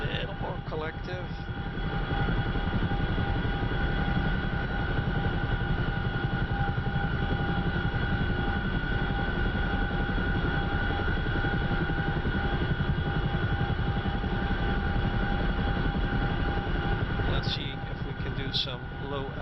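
A Boeing CH-47F Chinook helicopter in the DCS flight simulator drones with a steady, loud rotor and engine roar that holds evenly throughout, with a couple of brief clicks near the end.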